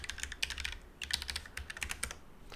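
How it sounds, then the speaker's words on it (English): Fast typing on a computer keyboard as a question is entered, a close run of crisp key clicks in quick bursts with a short pause in the middle, and no talking. "So I would just type in that exact question right into the input, press enter"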